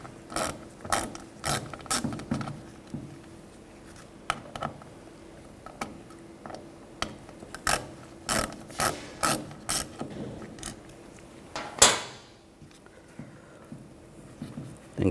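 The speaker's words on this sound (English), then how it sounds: "Use a T30 socket." Ratchet wrench with a T30 socket loosening a screw on the sensor of a 2011-2015 Chevy Cruze intake manifold, quick clicking bursts in repeated rhythmic strokes, close and fairly quiet, ending with a sharper knock.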